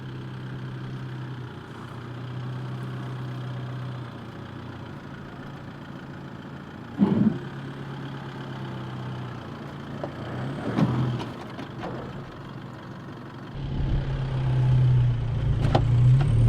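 An Isuzu MU-X 4WD without a locker idles and strains over wombat holes, a steady low engine drone with scattered knocks and clunks, building to a louder, rougher rev near the end.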